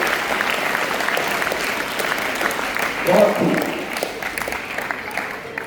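Applause from an audience at a Hindi poetry gathering, a continuous moderate clapping wash with a brief voice of appreciation partway through.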